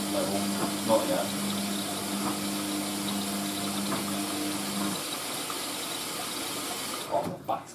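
An Indesit WIXXL146 washing machine draws in water on its final rinse with laundry steriliser, a steady rushing hiss and low hum that cut off partway through, followed by quieter clunks and rustles.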